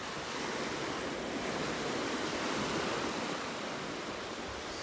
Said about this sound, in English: We could walk out in the water, but with these waves